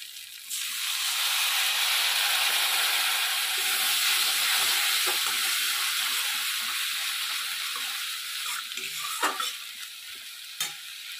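Water hitting hot spiced oil in a wok for a vegetarian banana-flower curry, bursting into a loud, steady sizzle and hiss that holds close for most of the stretch, then thins slightly with a few sharp crackles near the end.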